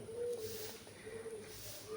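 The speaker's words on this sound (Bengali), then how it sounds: "পায়রাগুলো ডাকছে আওয়াজ শোনা যাচ্ছে এখান থেকে" Pigeons coo on a rooftop, a low soft warbling call repeated a couple of times, faint and somewhat distant over steady outdoor background hiss.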